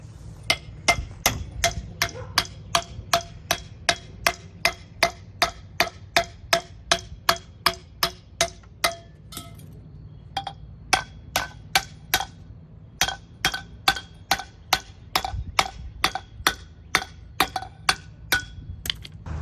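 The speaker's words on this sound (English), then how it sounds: "go ahead and hammer an area flat on this, like a little indention" Metal piece for a raised grow bed being hammered flat with a rock on a hard surface, a long series of sharp, evenly spaced strikes, loud and close, with a brief pause midway.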